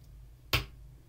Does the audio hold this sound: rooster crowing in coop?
no